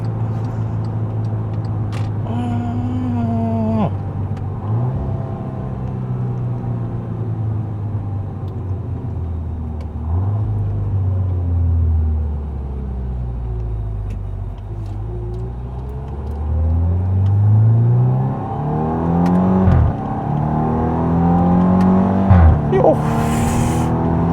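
A 2014 VW Scirocco R accelerates hard through the gears, its engine note climbing in pitch and dropping sharply at each upshift, loud and close from inside the car.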